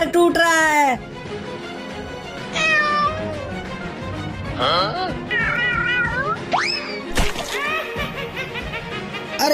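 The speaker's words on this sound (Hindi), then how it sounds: "अरे अब ये इतनी बड़ी बिल्ली कहाँ से आ गई?" A large cartoon cat meows and caterwauls in several drawn-out, wavering cries with gaps between them, loud and close, mixed with cartoon voices and splashy effects.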